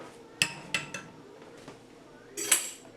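A metal fork clinks sharply against a bowl while mixing creamy potato soup, several distinct taps spread irregularly, ending in a brighter cluster of clinks, close and otherwise quiet.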